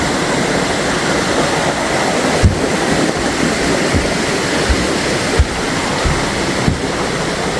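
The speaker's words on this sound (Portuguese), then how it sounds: "A cachoeira ali, tem um cano d'água ali que puxa a água pra cá." Waterfall on the Guaxinduba river, fed in part by a water pipe, roars as a steady, loud broadband wash for the whole stretch, with a few faint low thumps breaking through.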